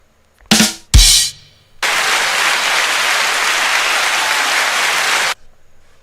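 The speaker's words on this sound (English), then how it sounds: "A little applause for Gotta Bubba." A canned applause sound effect plays on a live stream after a pool shot: two brief bursts, then several seconds of loud, dense, continuous clapping that stops abruptly.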